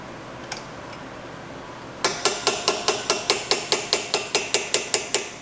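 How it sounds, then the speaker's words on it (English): Pin tool driving brake pad pins into a Maserati GranSport during a pad replacement. After a quiet start, about sixteen sharp metallic taps strike in a fast, even rhythm, close by and with no talking. "I have this pin tool that hammers them in perfectly."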